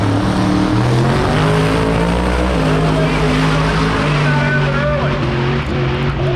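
A drag racing car at Gainesville Raceway during Sick Week roars with a loud, sustained engine drone and shifting harmonic tones, while an announcer's commentary runs over it.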